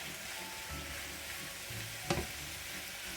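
Steak and mushrooms cook down together in a pan with a quiet, even sizzle, then one brief sharp clack of a utensil near the end; low in level, close, and without speech.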